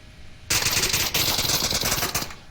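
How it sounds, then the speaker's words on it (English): Rapid automatic gunfire from VR shooter Onward during a competitive match, a dense sustained burst starting abruptly after a short lull and rattling on with a brief break, loud and close. "Steven's still trying to blind fire Nardu through the bushes"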